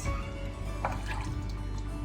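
Coconut cream with coconut water poured from a full can into a cooking pot, a close, thick glugging trickle with a brief splashy burst midway, over a steady low hum.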